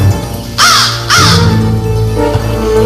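Two loud, harsh caws from a crow close by, one right after the other, followed by quieter background ambience.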